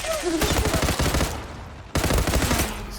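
Loud bursts of close automatic gunfire from the online shooter Zula rattle in two rapid volleys separated by a brief lull, each string of shots sharp and evenly spaced.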